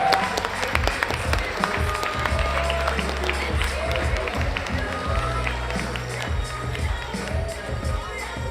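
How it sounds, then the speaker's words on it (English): Crowd at a world weightlifting championship applauding the new women's +70 kg world champion, with a dense mix of clapping, cheering and loud amplified voices and rhythmic thumps running through the whole stretch. "And a big applause to our ladies plus 70 kg."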